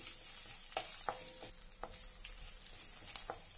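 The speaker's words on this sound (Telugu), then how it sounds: "కాజు వేసుకోండి. ఇవన్నీ కొంచెం బ్రౌన్ కలర్ వచ్చే వరకు వేయించుకుందాం." Cashews frying in a pan until brown for Navaratri coconut rice, a soft steady sizzle with occasional light clicks and scrapes as they are stirred, close but quiet, no voices.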